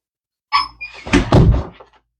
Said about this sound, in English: I'm gonna shut a door here